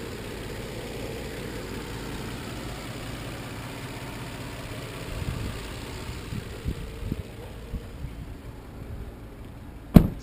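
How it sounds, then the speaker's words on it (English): A 2008 Nissan Xterra S V6 engine idles with a steady low rumble, faint and even, with a few small clunks and a sharp click at the end. "Here's the V6 engine, you can hear it running."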